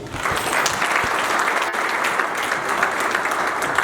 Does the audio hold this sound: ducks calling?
no